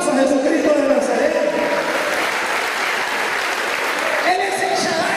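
Church congregation clapping in sustained applause for Jesus during a Spanish sermon, a dense steady roar of hands filling the room, with voices mixed in.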